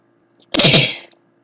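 A single loud sneeze, with a quick breath just before the burst, then silence.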